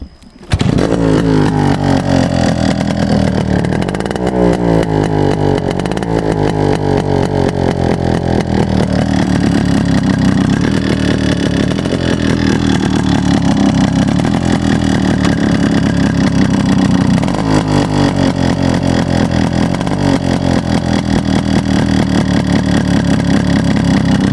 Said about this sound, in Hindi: अब मैं इस बाइक का आपको एग्जॉस्ट के साउंड भी सुना देता हूँ।